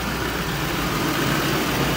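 A 2015 GMC truck with a turbo and straight-pipe exhaust idles steadily, a continuous low rumble with broadband exhaust roar that holds even and close throughout, with no voices over it.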